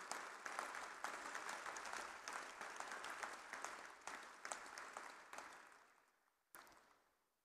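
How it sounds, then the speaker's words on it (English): Audience applause for the 5 km run winners at a large student 5k and 10k marathon event at Kanha Shanti Vanam, a dense sustained clapping that fades toward the end, followed by one brief final burst. "So let us once again give a big round of applause to the winners of the 5 kilometers"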